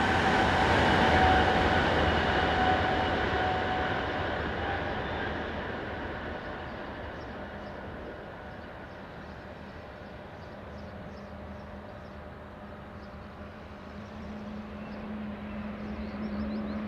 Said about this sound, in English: 460-064 and two Class 500 train sets both head east